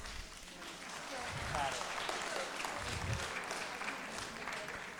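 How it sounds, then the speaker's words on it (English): An audience at a community food discussion gives quiet, distant applause, a steady even patter of many hands lasting several seconds. "I hope that applaud gets your answer"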